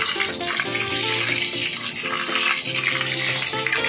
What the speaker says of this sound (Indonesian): sekarang saya akan menggorengnya